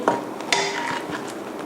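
A serving plate set down on a counter after stir-fried lotus stems with shrimp, giving two sharp ceramic clinks with a short ringing tail, close and fairly loud, with no talk.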